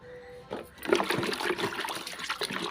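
Laundry blue is stirred into boiled starch water, making a short close splashing, swirling liquid sound that starts after a quiet moment and continues unevenly to the end.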